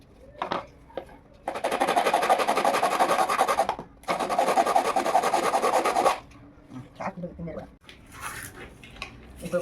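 The plastic outer casing of an insulated hot box food container is cut, producing two long, steady rasping sawing strokes up close, framed by lighter scrapes and handling clatter.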